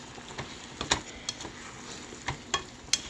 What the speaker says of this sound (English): We're just going to stir fry these